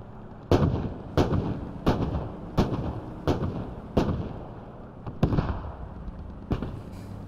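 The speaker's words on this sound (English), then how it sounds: "We've got mortars inbound." Incoming mortar rounds in Squad on the Al Basrah map, a string of about eight sharp explosive impacts spaced roughly a second apart, fairly close and loud with brief rumbling tails.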